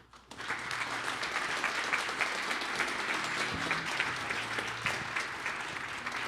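Sustained audience applause at a real estate investing talk, dense clapping that swells quickly and holds steady to the end, with faint crowd murmur underneath.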